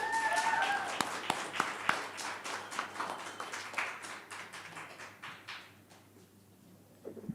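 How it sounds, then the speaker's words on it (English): An audience at a live VR meetup applauds two guests, steady moderately distant clapping with a few sharper individual claps that gradually thins and fades over several seconds. "So please give them a great big round of applause"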